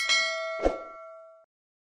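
A bright metallic ding rings out, followed by a second struck tone, both decaying over about a second before silence.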